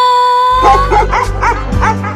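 Several dogs bark and yip in a quick run of short calls after a steady tone fades out, loud and close, with a low hum underneath.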